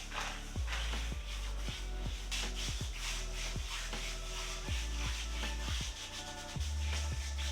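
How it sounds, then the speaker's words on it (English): Coffee and sugar body scrub rubbed over skin, a steady gritty scraping with repeated strokes and low thumps, fairly close and continuous with no talking. "This is a coffee and sugar body scrub I got from the supermarket."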